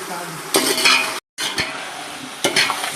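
Tomatoes fry in oil and ghee in a home kitchen, a steady sizzle broken by bursts of stirring and utensil scrapes, with a brief silent gap midway.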